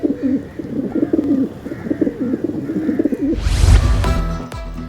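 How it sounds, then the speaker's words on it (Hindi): Pigeons feeding at Kabootar Chowrangi in Karachi coo in soft, repeated rolling calls close by, then a sudden loud whoosh of noise breaks in over them near the end. "सिंध असम्बली और हाईकोर्ट के सामने कबूतर चुरंगी का मुकाम, जहां कबूतर दाने चुगते हैं"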